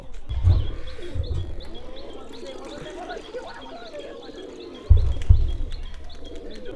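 Loft pigeons that have just finished eating paddy coo in low, repeated bursts at the start and again near the end, close by, with faint chirps and steady background noise between.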